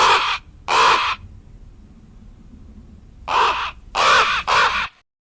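A crow gives harsh, hoarse caws in two groups: a pair of calls, a pause with quiet background, then three more caws close together, loud and near with no talking.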